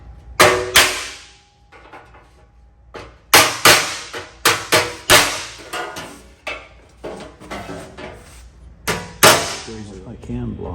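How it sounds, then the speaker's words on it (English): Hammer blows ring out as a dented steel door panel from a junk vehicle is beaten on an anvil: roughly a dozen sharp, loud metallic clangs in irregular bursts, each decaying quickly, close up. "I'm gonna take this over to the anvil and I'm gonna beat that down just a little bit"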